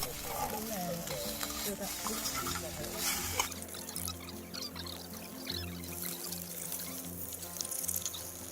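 Butter and parchment fry in a titanium pan at a solo campsite in Tai Lam Country Park, Hong Kong, giving a steady close sizzle and crackle throughout with some stirring and clatter early on.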